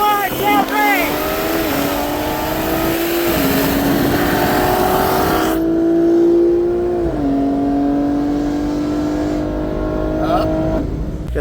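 Drag race between a 2022 BMW M3 Competition and a 2021 Shelby GT500, both on bolt-ons and E85, engines roaring hard through rising revs and stepped upshifts, loud and close from launch, with voices briefly at the start.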